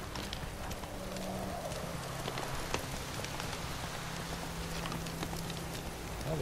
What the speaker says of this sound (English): Holy crap, it's raining a lot now.